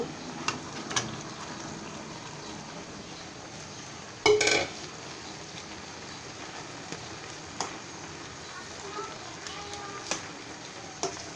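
Rohu fish heads go into a pan of cooking spinach with a sharp clatter of metal utensils, surrounded by a low simmering hiss and occasional light clinks, with a voice talking over it.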